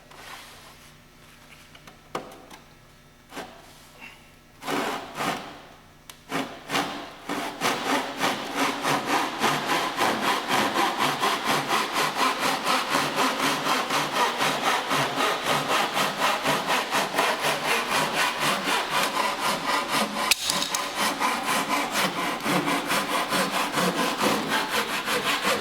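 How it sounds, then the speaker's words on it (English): A pull saw cuts through wood while an inside stem is trimmed, starting with a few separate strokes and then settling into a steady, fast back-and-forth rasp that stays close and loud with no talking. "pull saw to do this"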